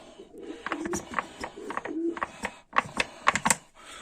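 Pigeons in a dovecote being treated with powder make soft cooing and rustling, with a rapid series of scratchy clicks and taps from birds moving about nearby.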